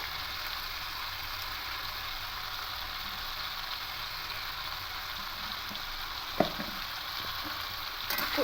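Salted potatoes frying in a pan make a constant hissing sizzle, steady and close, with a couple of brief spoon knocks and stirring scrapes near the end, no voices.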